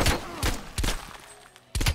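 Gunfire in Call of Duty Black Ops Cold War shooting through a wall: loud, close bursts of shots in quick clusters with short gaps between them, and no talk over them.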